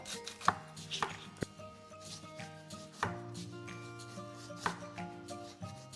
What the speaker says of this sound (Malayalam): ഫിഷ് ഒന്ന് ഗാർണിഷ് ചെയ്യാൻ വേണ്ടിയിട്ട് ഒരു ഉള്ളി അരിഞ്ഞെടുക്കാം